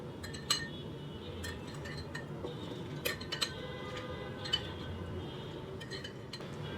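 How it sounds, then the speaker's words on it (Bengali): Crushed ice dropped into three glasses while making Afghani iced tea with green tea, giving scattered light clinks and rattles against the glass, faint and close, with quiet pauses between. "এর মধ্যে কিছু বরফের কুচি দিব।"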